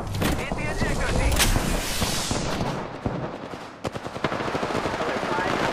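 Rapid bursts of automatic gunfire in the Apex Legends video game, loud and dense, with heavy rattling volleys through the first seconds followed by scattered individual shots and impacts.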